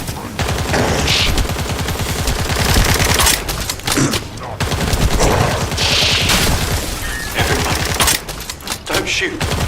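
Rapid, loud bursts of automatic gunfire from a sci-fi shooter game, sustained fusillades broken by brief pauses, with a voice speaking over the shooting.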